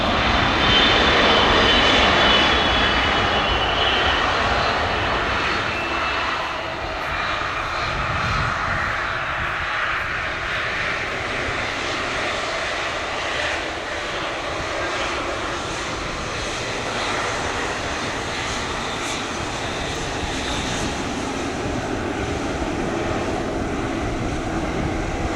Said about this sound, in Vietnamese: bây giờ máy bay đang nhanh chóng giảm tốc trên đường băng 25 phải